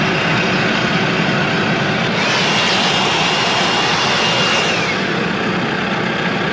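A tractor pulling a Frontier DM 5060 disc mower cuts hay, heard as a loud, steady engine roar with high whining and rushing noise, constant and close with no talk.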